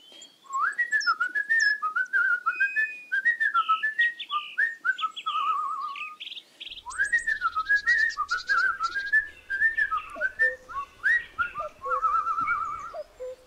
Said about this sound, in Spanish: Y se fue por el camino, silbando una hermosa canción.